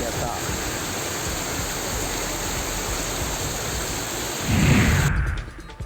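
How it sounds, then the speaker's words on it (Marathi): Heavy rain pours down in the Kakadda area of Nandurbar district, a steady, dense, loud hiss of falling water that holds constant, swells briefly near the end, then cuts out abruptly. "नंदुरबार जिल्ह्यातील काकडदा परिसरामध्ये तुफान पाऊस झालाय"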